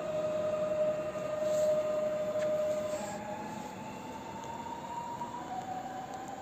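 A train rolls away from a station platform at Warszawa Praga at a moderate distance, with a sustained tonal whine drifting upward in pitch over low rumbling; no talking.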